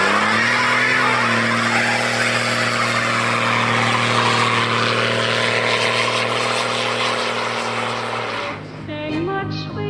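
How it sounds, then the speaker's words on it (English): A 1989 Cummins turbo diesel truck roars loudly and steadily at high revs for a long stretch during a burnout, then the engine note drops and falters near the end. "how about we go out and see if this thing will do a burnout?"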